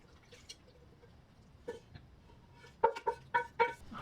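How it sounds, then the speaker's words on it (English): Sausage and mushroom pasta being spooned from a pot into a 13 by 9-inch baking pan, giving soft wet plops and several clearer scraping clinks toward the end, close and quiet with no talk. "I'm going to very carefully transfer the contents of this pot into the pan"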